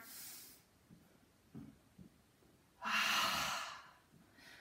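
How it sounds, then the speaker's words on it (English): Deep, slow breathing during a guided full-body exercise session: a soft exhale at the start, then a few faint breaths, and finally a long, loud, close exhale lasting more than a second, with no talking. "Inhale. Exhale."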